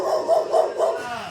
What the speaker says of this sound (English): The dog's kind of angry.